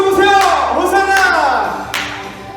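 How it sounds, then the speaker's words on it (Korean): Children at a Sunday school worship service clap along to a Hosanna praise song, a few sharp claps spaced through loud singing. "자, 더 크게 박수 보세요"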